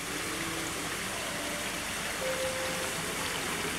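Steady running water in a Japanese botanical garden, a continuous close rush like a stream with no voices, holding evenly from start to finish.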